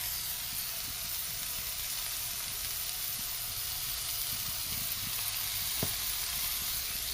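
Turmeric hitting hot oil for a vegetarian home dish gives a steady, dense sizzle and hiss throughout, with faint stirring and one brief knock near the end, and no voices.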